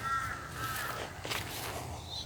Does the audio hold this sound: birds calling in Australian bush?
yes